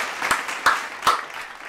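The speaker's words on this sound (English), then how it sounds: "A bit of applause clapping in." Canned applause in a computer-graphics tutorial is thin and moderately quiet, with a few distinct louder claps standing out at regular spacing over a soft clapping wash.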